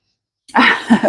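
A single sharp sneeze bursts out close by after a moment of silence, quick and explosive.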